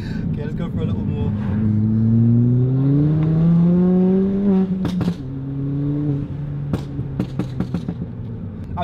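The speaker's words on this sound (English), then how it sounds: "I'm trying to be so respectful because this car is loud." A stage 3 tuned Ford Fiesta ST of about 290 bhp accelerating hard, its engine note rising steadily in pitch before a gear change, then sharp pops and bangs as revs fall, heard loud from inside the car.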